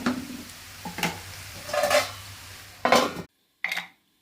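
Boiled cabbage stirred in a metal pan, a series of close scraping utensil strokes against the pan, followed by a sharp clatter as a lid is set on, with quiet sizzling underneath.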